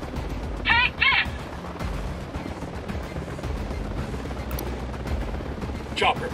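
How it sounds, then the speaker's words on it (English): A helicopter in the video game Tom Clancy's Ghost Recon Wildlands on PS4: a continuous rotor rumble runs throughout amid combat noise, with a few short bird-like chirps and bursts over it. "Down, get down, chopper."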